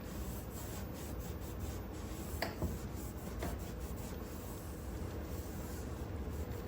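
Rag buffing wood stain into a wooden kitchen cabinet, a continuous soft rubbing and rasping texture with a couple of sharper scrape accents, close and steady.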